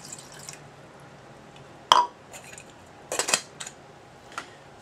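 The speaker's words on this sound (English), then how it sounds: "we got our 1 cup of water going in the GSI." One cup of water poured into a GSI camping pot: a sharp metallic clink, then a short splashing gush and a few drips and light knocks of cookware in a quiet outdoor setting.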